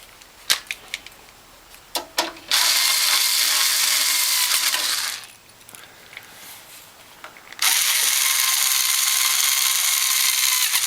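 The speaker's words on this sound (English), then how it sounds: "with your screws, you're going to screw that back in, as I'm doing here" Power screwdriver driving screws back into the front sheet metal of a Norwalk juicer, with two long sustained whirring bursts separated by a pause, preceded by a few sharp clicks and taps, close and fairly loud.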